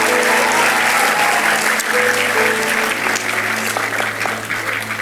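Loud, sustained applause from a young church congregation at a youth worship service, a thick wall of clapping with a faint hum and some murmuring voices underneath.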